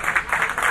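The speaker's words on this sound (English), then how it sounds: "With great applause there." Mission control applauds after the Phoenix lander touches down on Mars, with a brief burst of dense clapping from a crowd.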